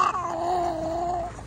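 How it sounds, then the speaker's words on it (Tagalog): A cat meows in one sustained, drawn-out call lasting over a second, close and fairly loud with a steady tone that dips slightly, heard alone without talk. "May pusa."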